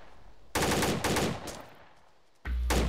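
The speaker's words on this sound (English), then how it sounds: "Enemy fire!" Enemy gunfire in a tactical military shooter game, loud rapid automatic bursts in two close volleys with a short gap, then another burst starting, no talk over it.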